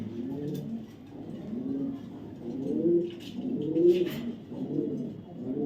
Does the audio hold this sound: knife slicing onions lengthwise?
no